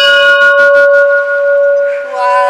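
A large bell in a bell tower rings loud and close, its sustained tone humming with strong overtones that linger and slowly shift.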